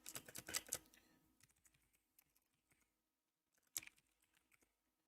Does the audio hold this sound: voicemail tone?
no